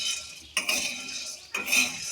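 Rice dry-roasting in a pan is stirred, giving two quick scraping rattles of grains and utensil against the metal with quiet gaps between them.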